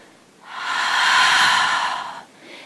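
A long, steady exhale during a yoga plank lowering in a vinyasa flow, a soft broadband breath rising and fading over about two seconds, close and alone.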